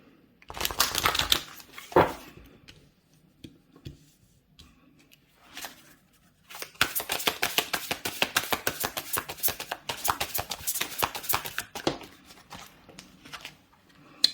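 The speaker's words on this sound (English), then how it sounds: "I'm going to shuffle one more time." Tarot cards riffle and shuffle in quick clattering bursts, one short run and then a longer stretch of rapid flicks, close up with no talking.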